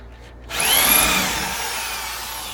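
A power drill whines up suddenly and grinds steadily through a steel rivet on a GMC K1500 ball joint, loud and close, its high pitch holding with slight wavering.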